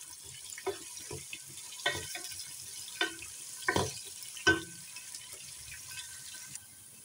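Onions frying in oil until golden for an Indian potato curry, a quiet, even sizzle broken by a few soft stirring scrapes, close by and with no voices.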